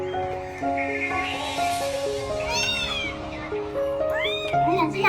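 Hungry young kittens meow repeatedly, with rising and falling cries close by over a steady tonal background.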